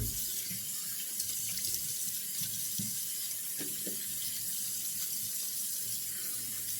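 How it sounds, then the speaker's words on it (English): A bathroom sink tap runs steadily while someone washes their face after shaving with a single blade razor, with soft splashes and hand movements in the stream and no talking. "I'm going to go ahead and wash my face off"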